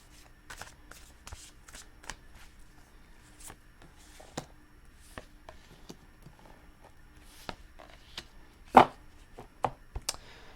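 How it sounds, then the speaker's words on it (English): Tarot cards being shuffled in quick riffling bursts, with soft taps and rustles, one sharper flurry near the end; quiet and close, no voices. "Last shuffle."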